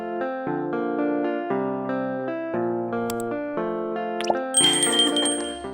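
Notification bell sound effect: a bright electronic melodic chime of rapid repeating tones, followed by a sharp ringing ding near the end, loud and close, with no voices.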